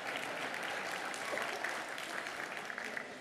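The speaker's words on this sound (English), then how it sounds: "You can clap, Aggies," A crowd of Texas A&M fans and Longhorn alumni claps steadily at a speech event, a dense, even wash of applause sustained throughout at moderate distance.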